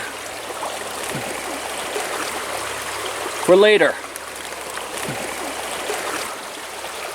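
A Catskills mountain stream flows steadily in the background, a constant soft rush of water beneath a brief, louder spoken phrase near the middle.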